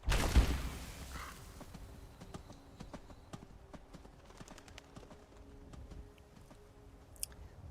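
Hooves of a horse in Skyrim clop along at a steady walking pace, soft and fairly faint, with light rhythmic thuds continuing through the whole stretch after a brief louder rustle at the start.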